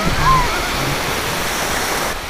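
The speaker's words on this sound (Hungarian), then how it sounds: "Ó, nézd a hullám, látod?" Steady, loud roaring wash of surf breaking on a beach, a continuous broadband rush with no distinct pauses, and a faint voice buried underneath.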